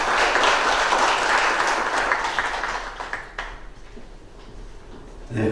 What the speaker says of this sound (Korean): 박수 부탁드리도록 하겠습니다.